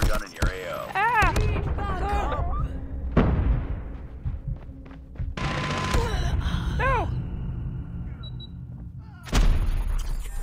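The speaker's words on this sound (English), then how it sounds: "Hostile sentry gun in your AO." Sentry gun firing in Call of Duty Mobile, bursts of heavy gunfire and explosive booms mixed with game voices, tonal effects and chirps, loud and busy across the scene.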